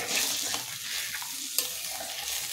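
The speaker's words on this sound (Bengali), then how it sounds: "তারপর এটাকে ভালো করে নাড়াচাড়া করে নেব।" Turmeric and salt are stirred into a thin hilsa fish curry with black cumin and green chillies, the pot sizzling softly under steady scraping strokes and a single sharp clink.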